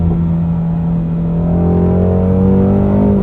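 A 2016 Ford Mustang Shelby GT350 engine revving after a downshift into third gear, a loud, close, steady droning roar that climbs in pitch as revs build.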